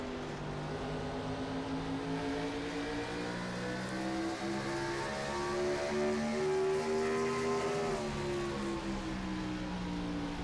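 Chevrolet stock-style race cars lapping Richmond Raceway in a FUEL Premier Series race, engines droning loud and steady for the whole stretch, pitch climbing slowly then dropping sharply near the end as the cars lift into a turn, no talking.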